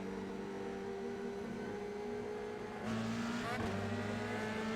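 F3 race cars launch from a standing start at Sebring in the iRacing sim, a steady engine drone that jumps to a louder, rising roar partway through as the field accelerates, with no talking.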